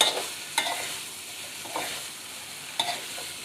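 Meat and Chinese kale (kailan) stir-fried in a pan, a steady broadband sizzle broken by a few sharp scraping stirs of the spatula, close and moderately loud with no talking.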